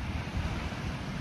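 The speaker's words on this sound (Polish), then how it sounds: "No dzisiaj to są fale" Sea waves surge and rumble in a continuous low wash, with wind buffeting the microphone, fairly loud and unbroken, no voices.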